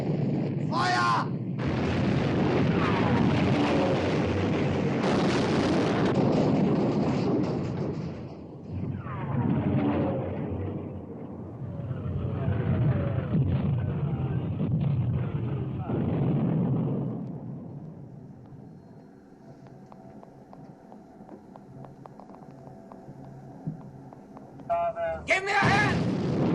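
Heavy naval gunfire from battleship guns in the war film Sink the Bismarck, loud booming blasts and rumbling through the opening seconds, fading into a quieter background with a sharp crack near the end.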